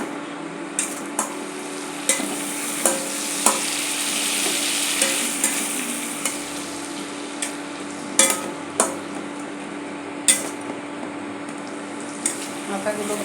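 Spice masala sautéing in oil with fried hilsa fish heads, a steady close sizzle broken by regular sharp scrapes and clacks of a spatula against the pan, with no talking.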